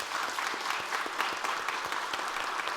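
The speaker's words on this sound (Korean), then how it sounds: "우리 중고등부, 청년부 또 아동부 친구들을 위해서 격려의 박수 한번 하겠습니다." A church congregation at a New Year prayer meeting claps in encouragement, moderately loud, steady applause with audible individual claps throughout, no talk.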